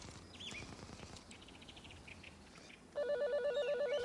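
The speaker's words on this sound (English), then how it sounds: "that's the sound, which means go back to square one and start dialing again" A mobile phone sounds its failed-dial tone: a steady, repeating electronic beep pattern switches on abruptly partway through and continues loudly over faint background noise.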